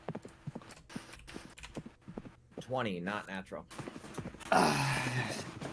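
Horse hooves clip-clop in a steady rhythm as a sound effect during a fantasy tabletop roleplaying game, close and fairly loud, with people talking over and between the hoofbeats.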